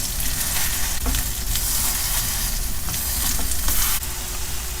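Salted eggplant slices fry in perilla oil in a pan, making a loud, dense, continuous sizzle with scattered crackles and light spatters, close by and with no speech.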